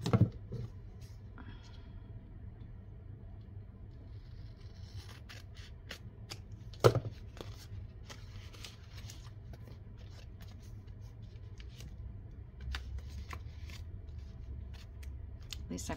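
Paper for a junk journal is being trimmed with scissors, giving sparse close snips and light paper rustles over a quiet background, with one sharper cut standing out near the middle.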